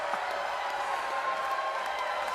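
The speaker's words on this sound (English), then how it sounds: "Crowd is jacked up as always." Bowling crowd at a PBA League 2023 quarterfinal match cheering and applauding, a steady dense roar of clapping and voices throughout, loud and continuous.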